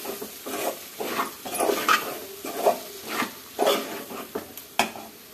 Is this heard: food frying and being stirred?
yes